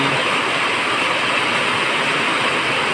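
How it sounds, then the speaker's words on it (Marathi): Monsoon rain pours steadily over Konkan rice paddies during planting, a dense, loud, even hiss of falling water that carries on without pause or voices. "तर मंडळी पाऊस परत आला आहे"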